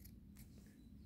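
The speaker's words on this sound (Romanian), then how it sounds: "un șervețel care mi se pare cel mai bun mod de a încerca o foarfecă" Fiskars Classic scissors snip through a paper napkin in a couple of quick, close, crisp cuts over a low steady background hum.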